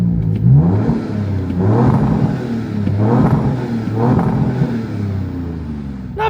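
A 2026 Dodge Charger Scat Pack's high-output Hurricane twin-turbo inline-6 revs several times in a row, each loud, close, burbly rise and fall in pitch following the last over a deep idle rumble.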